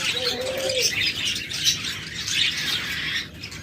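Pet budgerigars, cockatiels, lovebirds and doves chirp, tweet and coo together in a busy, close chorus of overlapping calls, with a brief low coo early on.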